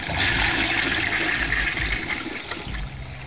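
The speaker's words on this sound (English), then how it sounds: "How's about a courtesy flush there" A toilet flushes in the Wrestling Empire video game, a loud sustained rush of water that stays steady for the whole stretch.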